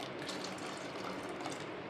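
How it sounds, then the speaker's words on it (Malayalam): Water gushes steadily from a vessel into a pan of chickpea curry, a continuous close pouring rush with no speech. "ഒരു ശകലം കൂടെ വെള്ളം ഒഴിച്ചു കൊടുക്കുക."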